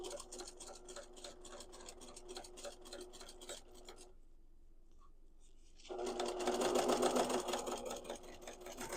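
A sewing machine top-stitches a quilted tote bag with flex foam in fast, rapid stitching bursts, pausing briefly midway before resuming louder and steadier, close by with no talk.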